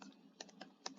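Keyboard typing while entering a heading in Canva: a short run of about four crisp, separate key clicks, fairly close and quiet, with no talk.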